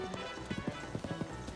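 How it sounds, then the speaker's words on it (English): A horse's hooves gallop in Zelda: Tears of the Kingdom, giving a quick run of rhythmic clip-clop beats at close range. "Man, I could not drive my horse out of there fast enough."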